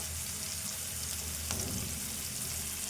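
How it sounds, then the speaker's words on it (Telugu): Ginger-garlic paste sizzles in a hot pan with chicken and green chilli, a steady close crackle that runs the whole time and flares briefly louder midway, with no talking. "ఇప్పుడే దంచి పెట్టుకున్న అల్లము వెల్లుల్లి పేస్ట్ వేసుకుందాం"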